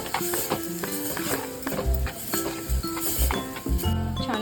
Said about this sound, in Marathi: वाटप आहे वाटलेलं ते आपण आता घालून छान असं भाजून घेणार आहोत